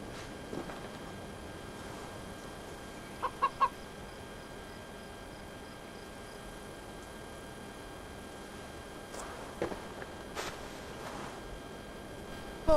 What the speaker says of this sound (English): I see only a chicken.